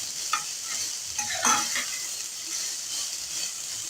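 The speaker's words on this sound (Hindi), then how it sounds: "मीडियम फ्लेम पे हमने प्याज को सॉफ्ट होने तक पकाना है।" Onions sizzle in a pan over a medium flame while a spoon stirs them, producing a steady frying hiss with a few scraping stirs close by.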